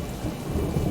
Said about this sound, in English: it looks like the rain is coming through my house, so there's some nice lightning